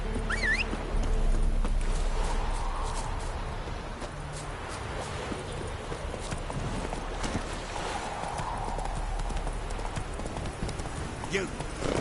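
Roach the horse trots through The Witcher 3 with a steady clip-clop of hooves running nearly throughout, mixed with game ambience and occasional voices.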